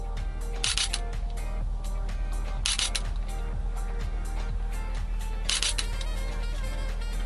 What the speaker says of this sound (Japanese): シャッターを切りますね。